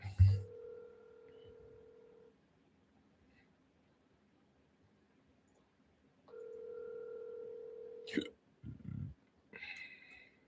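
A phone line on an unanswered call, with a steady ringback tone in two long bursts separated by silence, followed by brief clicks and a short automated voice.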